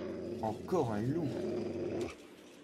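A wolf in the video game Rise of the Tomb Raider lets out a low, rumbling growl with rising and falling snarls, close and loud, lasting about two seconds before cutting off.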